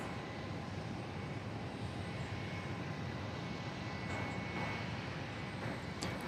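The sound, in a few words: airplane at Dallas Love Field Airport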